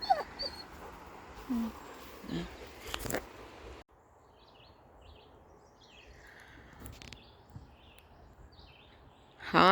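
A rescue dog whimpers and yips in short, scattered bursts outdoors at a cemetery, fairly faint against a steady wash of background noise, with birds calling now and then.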